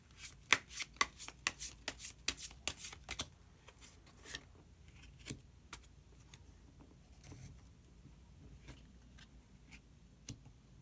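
Tarot cards are shuffled and a hidden card is drawn. Quick, crisp flicks and riffles come in a dense run at first, then thin to scattered soft taps and slides, near and quiet, with no talking.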